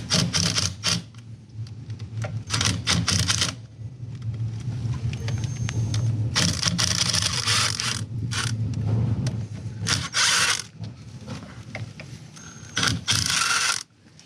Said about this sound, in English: these are in there with Loctite, so they take a little bit of force to spin out. That's why I'm using the impact gun